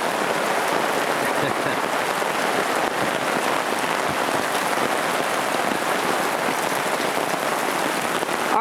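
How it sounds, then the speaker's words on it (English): Heavy rain drums steadily on a bushcraft tarp, a dense, even hiss of drops for the whole stretch with no voices over it. "we're getting some pretty heavy rain"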